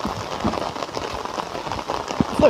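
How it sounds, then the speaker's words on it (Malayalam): Heavy rain in Kasaragod falls in a steady, dense patter on surfaces nearby, with no voices. "കാസർഗോഡ് നല്ല മഴയാണ്"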